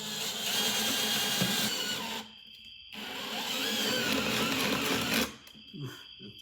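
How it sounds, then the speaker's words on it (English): A power drill boring holes through a desk, two loud sustained bursts of whining motor and cutting noise separated by a short pause, with a quieter rattle after the second stops. "Now we drill holes because we need to run these cables"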